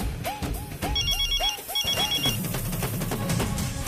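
A telephone rings indoors in a domestic comedy scene, giving two clear bursts of a trilling electronic ring close by over faint background noise.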